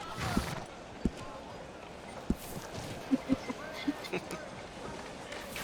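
A horse's hooves clip-clopping in RedM as it walks around a noisy frontier town, a handful of light, irregular hoof taps at moderate distance over low background ambience.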